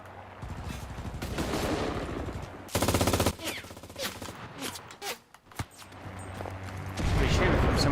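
Rapid automatic gunfire from GTA Online crackles in loud bursts, including a sustained machine-gun stretch and scattered single shots, close and dense over game background noise.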